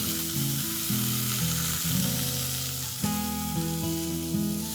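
Small peeled sweet potato pieces hit a hot cumin tempering and fry with a steady, close sizzle, set under tuneful background music.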